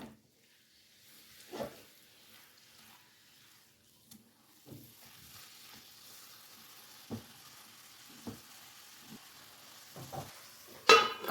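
Fenugreek leaves cooking with tomato in a pan give a faint, steady sizzle, broken by scattered soft scrapes and taps of stirring, with a sharper clink near the end.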